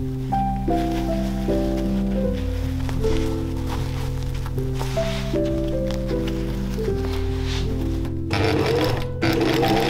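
A sewing machine stitches layered cotton pieces for a tulle and velvet dress, running loud and close with a steady whirring hum whose pitch steps up and down as the speed changes, then briefly stopping and starting again near the end.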